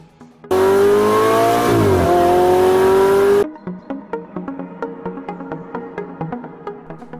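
A 670-horsepower V8 engine in a convertible sports car roars loudly in a sustained rev with a pitch dip and recovery, then cuts off to a faint rattling idle with small ticks.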